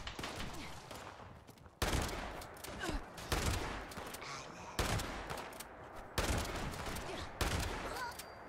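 Shotgun fire in Fallout 76 comes as heavy, booming blasts every second or two. They sit over a dense, constant din of combat noise and stay loud throughout.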